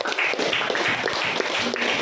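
Classroom applause, a group of students clapping together in quick, uneven rapid claps, fairly close and lively for about two seconds.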